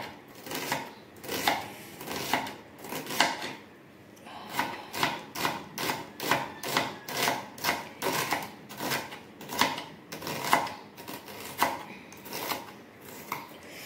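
A knife chops a very pungent onion on a board in a home kitchen, a steady series of crisp, close strikes in quick bursts of evenly spaced taps with brief pauses between runs.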